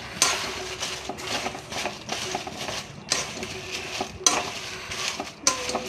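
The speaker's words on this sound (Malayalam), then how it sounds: "മുളക് വറക്കും. അതിൻ്റെ നെട്ടെടുക്കണം വറുത്തിട്ട്." Dried chillies stir-fried in a pan, giving a steady sizzle with repeated scraping and stirring clatter of a utensil against the pan, close up and continuous, with no talk.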